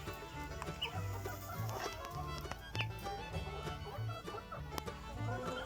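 A white hen clucking in a backyard flock, repeated low clucks at a steady, unhurried rhythm, close and moderately loud, with other faint bird and farmyard noises in the background and no talking.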